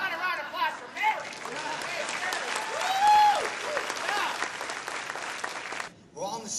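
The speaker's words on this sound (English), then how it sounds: "round of applause for Mary" An audience at a seminar applauds for Mary, a loud, dense round of clapping with cheering voices and whoops mixed in, breaking off near the end as a voice starts to speak.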